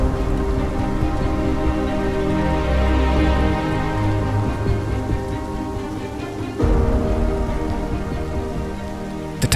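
Monsoon rain pours down in a dense, loud, continuous hiss and patter, with a low rumble beneath and a sudden splash of heavier drops later on, with no voices.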